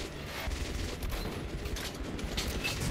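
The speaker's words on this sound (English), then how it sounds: "Shoot the wheels." Sustained automatic gunfire rattles almost without pause while shooting out the wheels in the game Metro Last Light, loud and dense throughout, with no voices.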